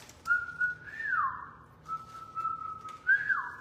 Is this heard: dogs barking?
no